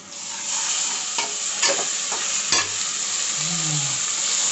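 Rajma cooking in a pan, a steady close hiss of frying with a few scraping stir strokes against the metal and a low bubbling near the end, no voices.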